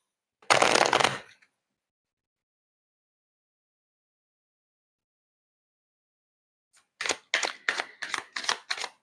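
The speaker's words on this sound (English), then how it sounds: "Let me just shuffle your cards a bit more." Tarot cards being shuffled by hand: one short dense riffle burst, a long silence, then a rapid series of crisp card slaps and flicks, close and clear with no talking.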